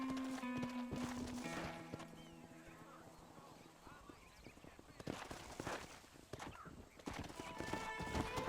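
Hooves clip-clop steadily while a horse whinnies and snorts in Red Dead Redemption, with music and game effects layered over the scene.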